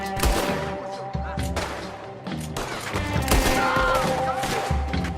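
Gunfire in the Red Dead Redemption 2 game during the Beecher's Hope epilogue, a loud, rapid volley of repeated shots and impacts with brief voices mixed in.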